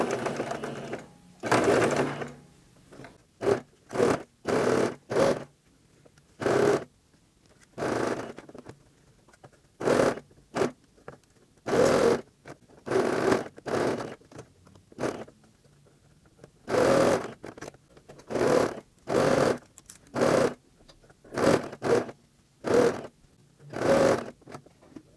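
Sewing machine stitching the seam of a fabric protective mask, starting and ending with backstitch: repeated close bursts of motor-driven stitching separated by short pauses, with no talk.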